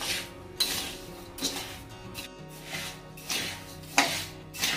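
Rice being dry-roasted in a pan for Maharashtrian chakali flour, with repeated scraping and stirring strokes of a spatula against the pan, close and fairly loud in an irregular rhythm.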